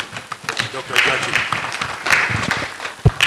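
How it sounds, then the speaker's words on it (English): A conference audience applauds briefly in a hall, and clapping swells under a speaking voice for a few seconds. "a round of applause for Dr. Jackie."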